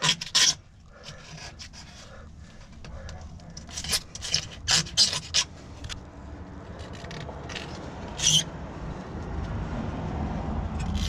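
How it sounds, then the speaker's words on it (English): A blade scrapes old RTV sealant off the mating surface of an NP249 transfer case from a ZJ Grand Cherokee, giving rough, rasping strokes in short bursts, close and fairly loud, with no talking. "I got the blade. I'm just gonna scrape all the old RTV off."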